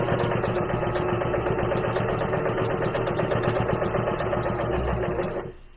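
A sewing machine top stitching close to the edge of a small fabric gift bag, running steadily with a rapid mechanical hum and needle chatter that cuts off abruptly near the end.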